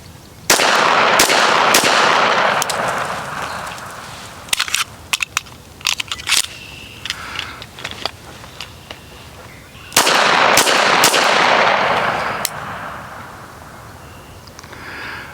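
Live handgun fire on a range, a burst of loud sharp gunshots, a pause with the metallic clicks and handling of a magazine change, then another rapid string of close shots before quiet handling noises.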